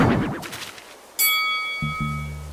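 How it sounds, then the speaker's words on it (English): A bell dinged in Animal Crossing: New Horizons rings once with a clear, sustained chime, followed by a short low game jingle. "I'm sure nothing bad will happen if I ding the bell."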